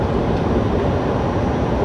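Freight train with a three-locomotive lash-up and two mid-train DPUs passing, a steady loud rumble and roar throughout with no distinct breaks.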